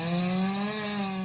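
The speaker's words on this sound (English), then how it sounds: "Chainsaws are becoming a common sound." A chainsaw cutting storm-downed trees drones steadily at close range, a loud buzzing whine with a steady pitch and no talking.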